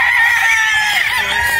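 A Boston Black gamefowl rooster of broodstag quality crows close and loud, one sustained strained call that fills the whole moment.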